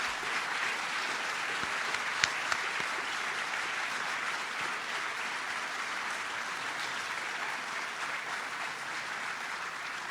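Steady applause from an audience at a Geneva Events Center announcement with the governor and city council, continuous and fairly distant, with a couple of sharper claps standing out.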